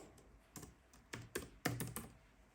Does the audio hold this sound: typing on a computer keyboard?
yes